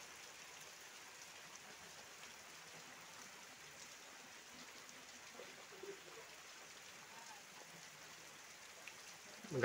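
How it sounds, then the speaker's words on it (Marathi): Heavy monsoon rain pouring steadily in a Konkan village while chicken vade are cooked, a dense, even hiss of falling water that stays constant and fairly faint throughout, with no voices. "पाऊस सुद्धा जोरदार लागतोय."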